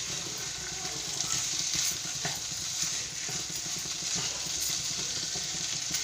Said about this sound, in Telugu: ఇది శుభ్రంగా మసాలాకి పట్టినట్టు బాగా కలుపుకోవాలి